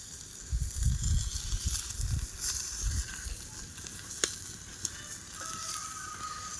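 Fish frying in oil gives off a soft, steady sizzle and hiss, with a few low bumps and a couple of sharp clicks, fairly faint and with no talk.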